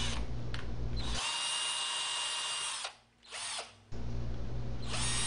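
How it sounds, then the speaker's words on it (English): Power drill whirring in bursts while drilling a pilot hole through clamped parts for a CNC machine Z-axis lead screw nut, starting and stopping several times with brief pauses between runs, close and fairly loud. "Clamp it together and drill all the way through."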